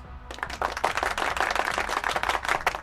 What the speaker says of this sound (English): Austin Reeves, you get a round of applause.